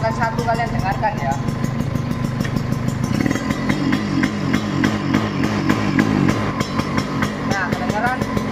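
A Kawasaki Ninja RR motorcycle with an electrical or ignition fault runs in first gear; the engine stutters with a steady, uneven rough idle close by, sounding continuously throughout.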